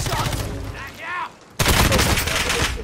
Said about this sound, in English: I'm gonna headshot him with my sniper